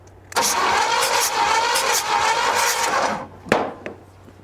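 A race car engine with low compression cranks over with a fast, rhythmic chugging starter sound for about three seconds, close by, then stops, followed by a couple of clunks.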